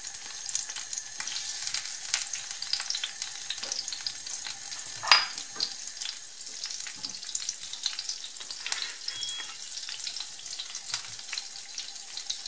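Tocino (bacon) frying in a pot for Cuban bean stew, a fine crackling sizzle with scattered pops and one sharp clink midway, moderately quiet and steady with no voices.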